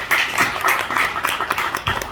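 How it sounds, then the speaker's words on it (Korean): A crowd applauds at a party convention's five-minute vision speech event, many hands clapping together in a dense, loud, continuous patter for about two seconds. "여러분 박수 한번 부탁드리겠습니다"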